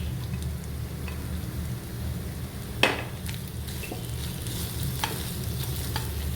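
Vegetables stirred in a pan for chicken frankie, with a soft steady sizzle under a low hum and scattered light clicks, one sharper scrape at the midpoint, and no talking.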